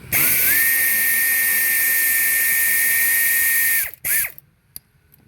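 Power tool spinning out a bolt from the floor console of a Chevrolet Traverse, GMC Acadia or Buick Enclave: a close, loud high-pitched whine running steadily for about four seconds, then a short second burst and a few clicks before quiet.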